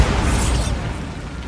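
A Bombarda spell goes off in Hogwarts Legacy as a single loud, close explosive burst with a bright crackling top that decays into a low rumble within about a second.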